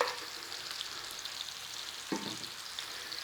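Sausages and other ingredients for a traditional Dublin coddle stew are tipped into a hot big pan, setting off a steady broadband sizzle with a sharp burst of clatter and spitting partway through, close and alone.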